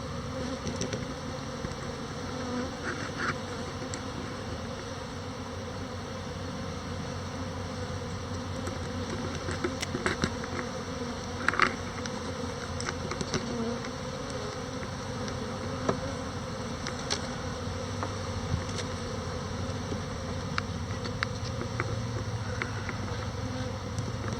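Honey bees swarm around open beehives during an inspection, a dense continuous buzz filling the air with individual insects passing close to the microphone now and then, steady throughout with no talking.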